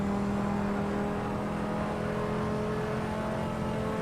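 A V10 race car engine in Assetto Corsa holds a steady high-pitched drone at sustained revs, loud and continuous with a faint whirring overtone and no talking.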